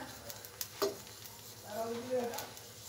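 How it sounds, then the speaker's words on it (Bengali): Oil spread over an aloo paratha on a hot pan, a soft sizzle with a couple of scraping strokes and light utensil touches, close but fairly quiet. "এভাবে তেলটা দিয়ে আমি ছড়িয়ে নিতেছি পুরো পরোটাতেই"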